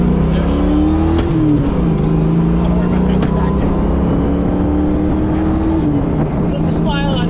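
A 1971 Ford Mustang convertible with a 9-inch Ford rear end accelerates, its loud engine drone rising and falling in pitch through gear changes, close and continuous, with some talk underneath.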